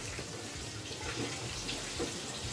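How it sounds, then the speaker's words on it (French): A glass of water poured into a cooking pot while braising fish Cameroonian style, a soft, steady wash of running water throughout at low level, with no talking. "on va commencer par ajouter de l'eau, un verre d'eau"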